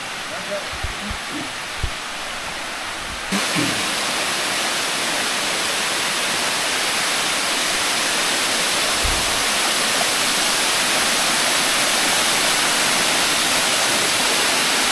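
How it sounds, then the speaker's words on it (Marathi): A few faint knocks, then a loud, constant roar from close beside Kasmal Waterfall near Pen fills everything, steady and unbroken. "आणि हे आम्ही आलो खाली धबधब्याजवळ"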